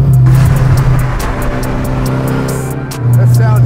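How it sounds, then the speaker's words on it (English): SR20 single-turbo engine in a Datsun Skyline Hakosuka with an HKS blow-off valve, revving loudly and steadily up close with a strong low drone, easing off midway before climbing again. "I think we went with an HKS blow off valve too."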